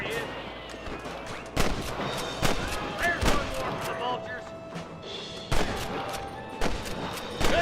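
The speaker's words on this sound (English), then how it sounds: "Good shooting, boy!" Repeated gunfire in a Red Dead Redemption shootout, with sharp shots cracking at irregular intervals over a dense background of battle noise and game voices, some bursts loud and close.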